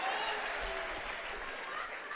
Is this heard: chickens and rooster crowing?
no